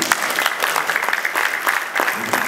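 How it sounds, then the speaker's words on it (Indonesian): Steady applause from the audience closing an art discussion in the evening, a continuous patter of many hands at moderate loudness with faint crowd murmur underneath and no speech. "Mohon tepuk tangan untuk Putu Wirantawan"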